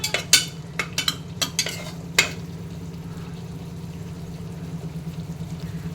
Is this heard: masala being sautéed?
yes